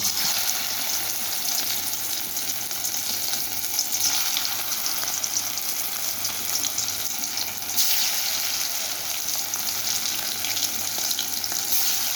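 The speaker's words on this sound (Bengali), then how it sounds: "এখানে আমি কড়াইতে তেল দিয়ে দিয়েছি এবারে আমি কাঁকরোলগুলোকে ভেজে নেব" Stuffed spiny gourd (kakrol) frying in hot oil in a wok, a steady, dense sizzle that holds evenly throughout with no talking.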